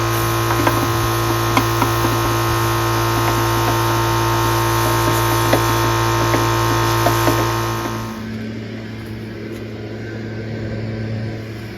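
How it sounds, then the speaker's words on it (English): Shop air from a compressor blows out the gas tank of a Toro 616Z zero-turn mower, a steady loud hissing rush with constant hum that drops off sharply near the end, leaving quieter background noise. "I'm going to blow it out with air compressor"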